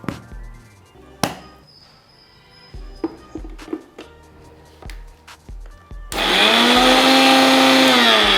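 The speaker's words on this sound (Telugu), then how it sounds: "తర్వాత ఇది మిక్సీ పట్టుకోవాలి సాఫ్ట్ పేస్ట్ అయ్యేంత వరకు" A kitchen mixer grinder whirs loudly and steadily, grinding green chillies with salt into a soft paste, starting abruptly after several clinks and knocks of setting up and running continuously to the end.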